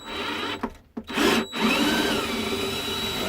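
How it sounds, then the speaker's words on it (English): A power drill fitted with a 13 mm bit runs loud and close, removing lag bolts from a subwoofer cabinet, with a steady whir broken by a couple of brief stops and restarts. "I got a 13 mil on the drill here, and I'm gonna go ahead, pop out all these screws"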